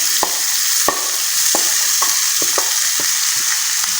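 Fenugreek (methi) leaves frying in a pan for methi paratha, giving a loud, steady hiss of oil with sharp intermittent clicks and taps of a spatula stirring the greens, and no voices.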